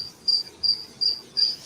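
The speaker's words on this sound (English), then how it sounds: "the crickets are extra chirpy tonight" Crickets chirp at night: four evenly spaced, shrill trills come one after another, close and clear over a quiet background.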